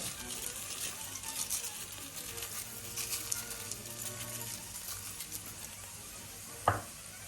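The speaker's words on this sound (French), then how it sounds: "on va le laisser griller tout doucement, en remuant très légèrement pendant environ 3 minutes" Rice grains toasting in a pan for risotto alla milanese give a soft, steady dry sizzle and faint scraping of gentle stirring for several seconds, with one sharper clink near the end.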